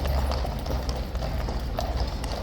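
Horse hooves clip-clop steadily on hard ground at a Horse Guards stable in Westminster, a continuous close series of strikes over low background rumble.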